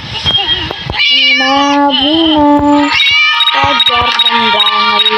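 A cat meows loudly and close up in long, drawn-out wavering cries, several in a row, with a person's voice heard around them.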